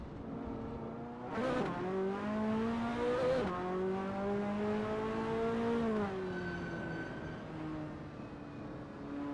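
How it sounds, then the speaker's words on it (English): Ferrari F40 racing at Donington Park National in a racing game, its engine note rising and falling through gear changes as it revs hard, then easing into a steadier drone. "That ASRL Ferrari F40 looks good driving through Coppice."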